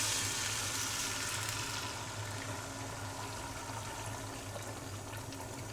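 Beaten egg seasoned with black pepper and a little salt sizzling steadily in a hot pan, a continuous bright frying hiss that fades slightly after the first seconds, with no voices.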